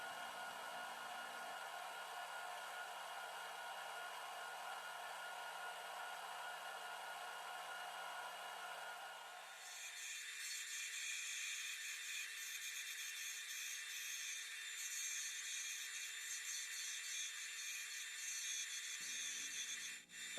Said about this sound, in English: I sand it up to a 400 grit and apply Axe sanding paste to it